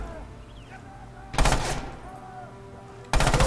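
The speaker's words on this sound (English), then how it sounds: "And Inrub finding out some pistol shots." Pistol shots during a competitive match of a World War II shooter game, with two short bursts of sharp firing roughly two seconds apart over a low, steady game ambience.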